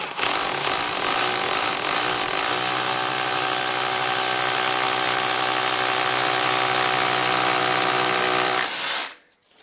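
An SDS impact drill bores steadily into exterior wall render, a loud, continuous grinding hammer-whir held for about nine seconds before cutting off abruptly near the end, with no talking over it.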